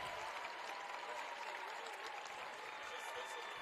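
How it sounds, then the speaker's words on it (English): A crowd applauds steadily in an echoing gym at a high school boys basketball semifinal, dense clapping filling the space without a break. "a very good round of applause here from Brigham Mulford."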